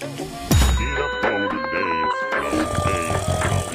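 A bell rings in a home at the door, a sharp metallic clang followed by repeated ringing tones, loud and close, with people talking over it.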